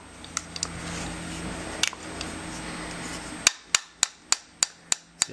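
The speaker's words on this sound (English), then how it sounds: "I tap this until I feel it's going to start entering" Pin being tapped into a Tanfoglio pistol frame during assembly: faint metallic ticks at first, then a steady series of about seven sharp, evenly spaced taps, close and clear with no talking.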